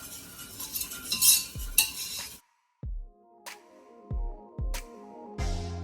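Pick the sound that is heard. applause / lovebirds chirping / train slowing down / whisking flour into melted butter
whisking flour into melted butter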